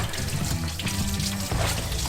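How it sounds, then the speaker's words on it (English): Water poured or splashed onto a gasoline fire during a Holley Sniper EFI install, a steady broadband rush with a dip near the end, loud and close, with no talk. "I'm gonna go get some water. Put out that fire."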